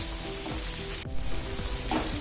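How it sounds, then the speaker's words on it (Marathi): Onion and coconut pieces sizzle steadily in hot oil for Kolhapuri misal, a dense continuous frying hiss with brief stirring scrapes, close and alone with no voices. "कांदा तर्रीला अगदी चांगला रंग यावा ह्यासाठी कांदा खोबरं अगदी छान लाल करून घ्यायचंय."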